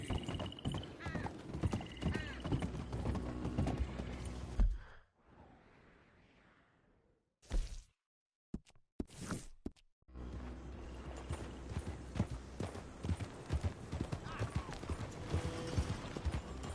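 Steady hoof clip-clops of a horse in a video game moving along, with occasional whinnies and snorts, interrupted by a brief quiet gap before the hoofbeats resume.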